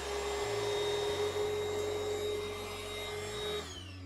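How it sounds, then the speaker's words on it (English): Shop vac sucking shop towels out of a Kohler K Series engine on a Cub Cadet 149, a steady loud motor roar with a high whine, running continuously before winding down at the end. "I'm just going to take to it with a shop vac and use the shop vac to suck the towels out"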